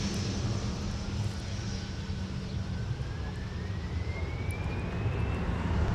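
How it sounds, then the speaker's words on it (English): A Delta Airbus A350 jet taxis toward runway 30 left at Minneapolis–St. Paul airport, departing for Amsterdam. Its engines give a steady, fairly loud broadband roar with a slowly rising whine, continuous throughout, with no voices. "Delta 160 Heavy with the mighty A350 is about ready to taxi boogie on down to 30 left for departure"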